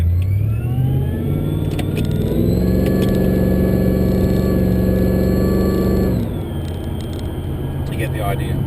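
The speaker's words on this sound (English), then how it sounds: "that's a drive in this 650 horsepower 402 LS2 Maloo Ute" A 650 hp Holden VE Maloo ute with a 402 LS2 V8 and 4L80 automatic pulls hard through the gears, engine note climbing in loud, close rising sweeps before easing to a steady lower drone.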